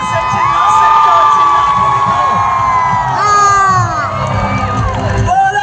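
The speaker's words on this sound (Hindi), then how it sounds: "अगर खुश हो तो जितना जोर से चिल्ला सकते हो" A large crowd at a Christian prayer festival in Jharkhand cheers, shouts and whoops loudly and continuously, with high excited voices and children's shrieks rising in waves throughout.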